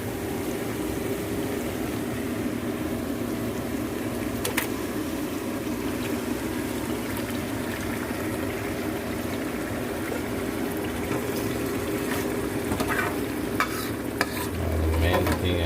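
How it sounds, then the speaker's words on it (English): Mutton frying in oil with golden browned onions in a pan, stirred steadily throughout with a constant close sizzle and scraping strokes, no talking. "Now We will add the mutton."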